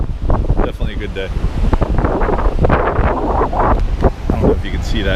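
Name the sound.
wind blowing at the beach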